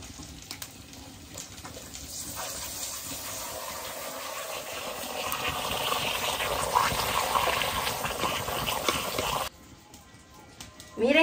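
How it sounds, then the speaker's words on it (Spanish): Tortillas fry in hot oil in a pan while square tostadas with nopales and grasshoppers are being made. A steady sizzling hiss builds gradually, then stops abruptly near the end. "Seguimos friendo nuestras tortillas."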